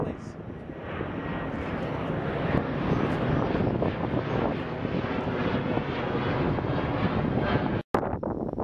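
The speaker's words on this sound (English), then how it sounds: "The third freaking plane. It ruined the video again. It's Southwest Airlines." A Southwest Airlines jet flies overhead along a California nature trail, a loud sustained roar with wind buffeting the microphone and a person talking over it.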